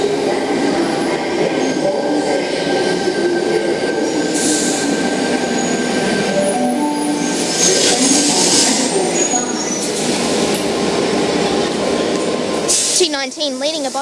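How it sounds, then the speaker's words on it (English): A Sydney Trains T19 set on a Bondi Junction service pulls away from platform 5. The loud, continuous rumble of the rail cars is joined by wheel squeal near the end, and people talk faintly in the background. "T19 leading a Bondi Junction service departing platform 5."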